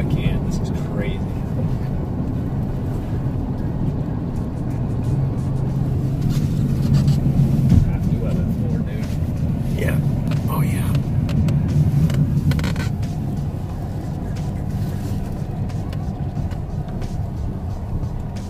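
A car engine roars continuously at high revs while stuck in snow during a winter storm, a loud sustained rumble with voices talking over it.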